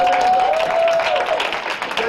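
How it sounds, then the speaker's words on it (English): Brief burst of audience clapping at the close of a youth panel discussion, steady and fairly loud, with a sustained tone and faint voices mixed in. "Give yourselves a hand clap"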